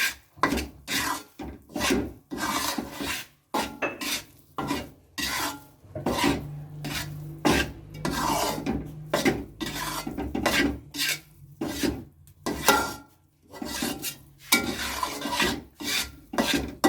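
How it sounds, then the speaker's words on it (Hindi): Gram flour and milk powder being roasted and stirred in a pan for besan barfi, with a steady run of dry scraping and rasping strokes from a utensil against the pan's base, close and fairly loud, no voices. "अब यहाँ हम खुश्क दूध डालेंगे इस वक्त, तकरीबन 1 प्याली, और इससे अच्छी तरह भूनना है इसको फिर से"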